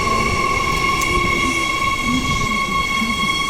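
A passenger train on a Perth rail line hums steadily up close, with a constant electric whine and rumbling rolling noise and no voices.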